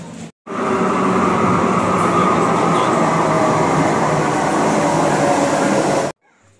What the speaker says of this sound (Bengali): তো আমরা মেট্রো করে চলে আসলাম এক স্টেশন থেকে অন্য স্টেশনে।